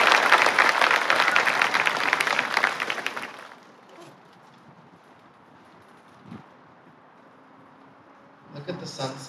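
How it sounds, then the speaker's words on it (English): A burst of loud crowd applause for board members at a school senior convocation fills the first few seconds, then fades out into quiet room noise with a faint voice near the end. "Let's give our board members a round of applause"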